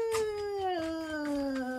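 A single cat gives a drawn-out meow that slides downward in pitch, close and clear with nothing else heard.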